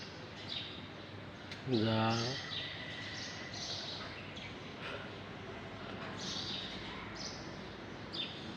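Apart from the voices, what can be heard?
birds chirping in a village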